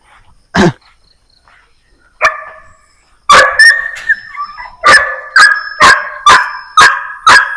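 A dog barks repeatedly, a single bark first, then a quick run of sharp, evenly spaced barks close by.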